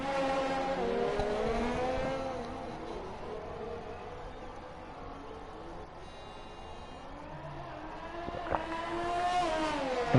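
A race car engine at the Rookie Racing Championship in Abu Dhabi, revving and shifting through gears with a steady droning whine that dips and climbs, fairly close and without talk over it.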